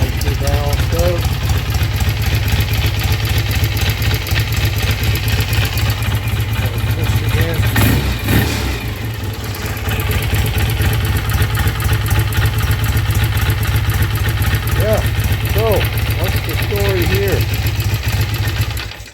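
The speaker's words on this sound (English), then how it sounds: "Got the idle down to about 5 RPM there." A BSA motorcycle engine idles with a loud, close, steady low thrum and clatter, and someone talks over it now and then.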